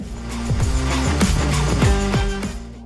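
A TSI-engined compact SUV launches hard from a standstill, the engine note climbing steadily through the revs, loud and close, with no talking over it.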